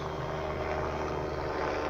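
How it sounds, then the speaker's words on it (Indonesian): An airplane passes overhead above a small garden under a cloudy sky, a steady, faint, distant engine drone that holds throughout. "ya sayup sayup ada suara pesawat di atas"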